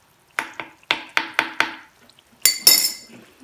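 A spoon scrapes and clinks against a pot of cooking onions, a rapid series of sharp metallic knocks with short rings, then a louder double clatter near the end, close and without talk.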